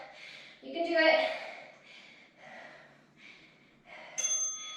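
A workout interval timer bell rings near the end of a strength session with resistance bands and dumbbells, a bright tonal ding after stretches of heavy breathing and talk.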